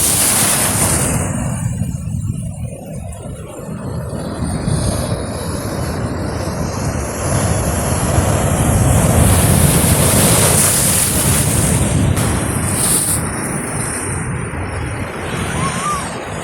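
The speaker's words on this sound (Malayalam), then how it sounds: "അതിശക്തമായിക്കൊണ്ടിരിക്കുകയാണ് കടൽ." Rough sea surf pounds the shore in a continuous loud roar of breaking waves, with gusty wind buffeting the microphone throughout and no clear voices.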